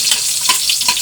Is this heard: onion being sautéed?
yes